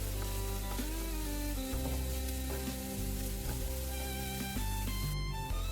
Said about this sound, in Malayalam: വീണ്ടും നന്നായിട്ടൊന്ന് വഴറ്റി കൊടുക്കാം